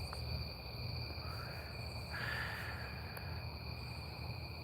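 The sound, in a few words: crickets chirping at night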